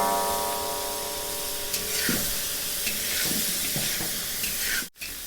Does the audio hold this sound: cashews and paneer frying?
yes